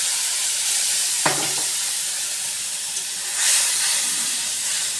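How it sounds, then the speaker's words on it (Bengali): A spice paste for doi katla dropped into hot oil after frying fish, giving a continuous hiss and sizzle with a short clatter early on and a swell of steam later. "আমি এরপর ওই তেলের মধ্যে যে পেস্টটা করে রেখেছিলাম ওই পেস্টটা দিয়ে দেবো"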